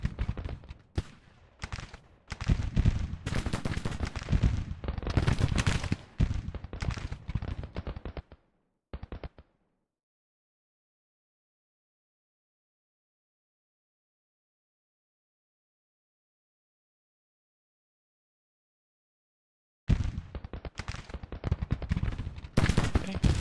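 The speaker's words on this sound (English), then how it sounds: "Okay, another batch of rifle muskets going out." Rifle musket volleys in Grand Tactician: The Civil War, dense bursts of loud crackling gunfire for about eight seconds, then a long silence before the firing resumes.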